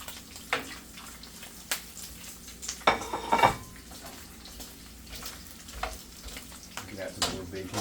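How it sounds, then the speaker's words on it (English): Strips of bacon frying in a very hot pan for low-carb breakfast rollups, a steady faint crackle and sizzle with a few louder clatters of utensils against the pan midway and no talking. "This bacon will probably cook pretty quick because it's pretty hot."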